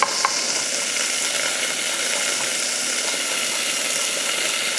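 Browned onions with softened butter fry in a pan, a steady close hiss and crackle of sizzling fat running without a break, no talk.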